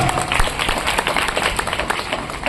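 An audience at a music school's Guru Purnima programme breaks into brisk, dense clapping from many hands, a short continuous burst of applause heard close and fairly loud.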